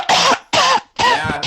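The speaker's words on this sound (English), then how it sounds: "I thought he was coughing because of the COVID," A man coughs three times in quick succession, each sharp, harsh burst close and loud with brief pauses between.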